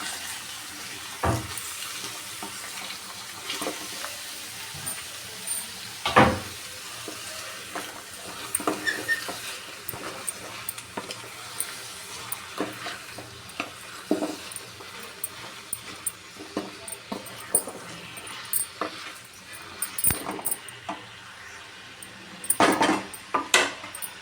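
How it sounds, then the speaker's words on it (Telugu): Pumpkin curry being stirred with turmeric and salt in a pan, with intermittent scrapes and clinks of a spoon against the pan over a soft background, some knocks louder than others, up close with no speech. "ఇది బాగా కలుపుకోవాలి"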